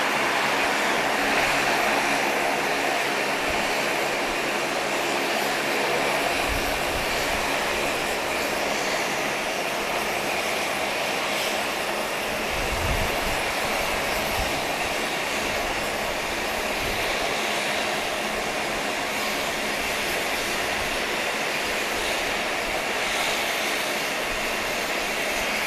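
Boeing 757 at Owen Roberts International Airport in the Cayman Islands, giving a loud, steady jet engine roar that holds constant for the whole stretch with no talk over it.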